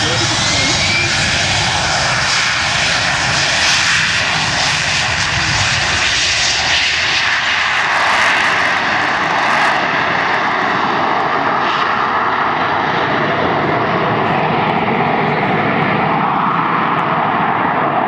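Harrier jump jet at an airshow, its vectored-thrust jet engine producing a loud, sustained roaring whine with a broad rushing hiss that holds steady throughout, close and powerful, with no other sounds breaking through.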